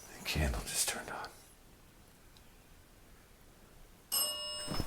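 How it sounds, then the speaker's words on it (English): A dead bell device and a motion sensor alarm go off together in the residence wing of a building: an abrupt, ringing electronic tone starts near the end and holds briefly. Soft whispering comes before it. "Dead bell and the motion sensor going off simultaneously."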